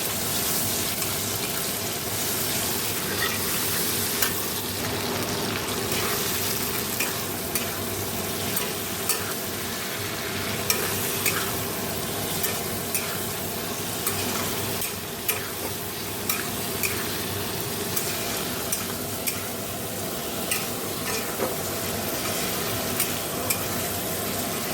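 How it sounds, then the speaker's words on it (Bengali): Tomato and green chili fry in a wok over a radhuni seed tempering. A steady, loud sizzle runs throughout, broken by frequent scraping clicks of stirring, with no talking. "কড়াইতে দেখো রাঁধুনি ফোড়ন দিয়ে টমেটো লঙ্কা দিয়ে দিয়েছি"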